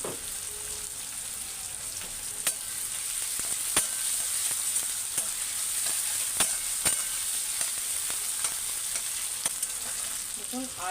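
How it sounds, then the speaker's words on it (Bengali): Sliced onion frying in a pan with a little sugar for a yogurt fish curry, a steady close sizzle with occasional sharp clicks of a utensil stirring, no voices. "পেঁয়াজটা লাল লাল করে ভাজার জন্য আমি একটু অল্প চিনি দেবো, যাতে তাড়াতাড়ি লাল হয়ে যায়।"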